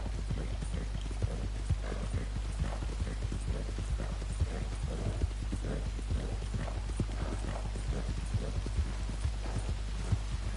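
Horse hooves clip-clop in a steady, even rhythm in Red Dead Redemption 2, close and clear over a low hum, running on without a break.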